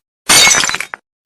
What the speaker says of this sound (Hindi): यहाँ पर जूस गिर गया है